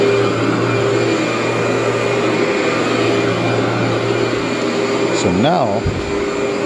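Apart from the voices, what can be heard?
vacuum cleaner running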